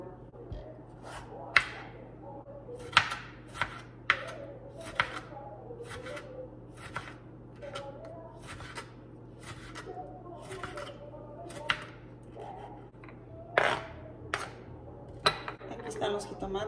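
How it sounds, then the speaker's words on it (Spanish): A knife cuts rinsed tomatoes on a cutting board, giving irregular sharp knocks against the board in uneven bursts over a steady low hum. "Voy a partir los jitomates y la cebolla."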